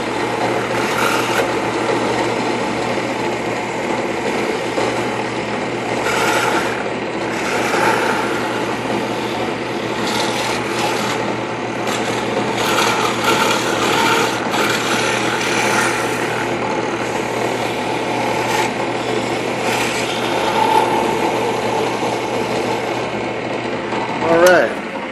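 A drill press cuts an inlay recess into wood, a steady motor hum with a constant low tone under irregular scraping and chattering bursts over about 25 seconds, close and moderately loud, with occasional speech-like sounds.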